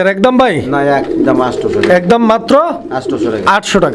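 Domestic pigeons at a market sale coo close by in repeated rolling calls, overlapping a man's loud speech throughout.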